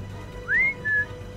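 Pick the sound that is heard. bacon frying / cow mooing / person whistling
person whistling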